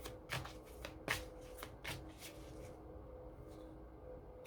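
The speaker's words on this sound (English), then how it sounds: "just shuffle it the right way, Vanessa." Tarot cards being shuffled in a few quick riffling bursts, close and crisp, then soft handling noise with no voices.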